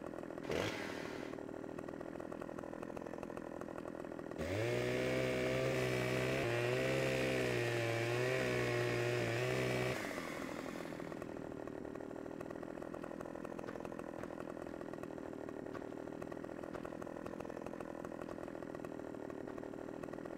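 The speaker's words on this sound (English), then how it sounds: "Can't run with a chainsaw." A chainsaw in the Farming Simulator 15 video game revs up and cuts wood for about six seconds, loud and wavering, then drops back to a steady idle hum.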